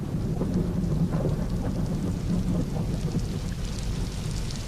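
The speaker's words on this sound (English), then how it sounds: "witnessed this morning moderate to heavy rains accompanied by active winds" Steady heavy rain with gusty wind during a tropical storm in Oman, a dense continuous roar with low rumbling, no voices.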